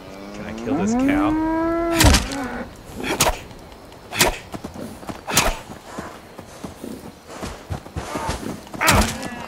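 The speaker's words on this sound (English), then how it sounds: "There's lots of cows around here." A cow in the post-apocalyptic video game Fallout 76 gives a long, loud, nearby moo with a rising and falling pitch, followed by a series of sharp thumps and knocks.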